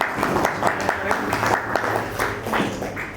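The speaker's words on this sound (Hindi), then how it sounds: "एक बार जोरदार तालियां बजा करके" Loud applause from a village crowd at a solar panel and smart class inauguration honouring a former sarpanch, brisk continuous clapping heard close and full throughout.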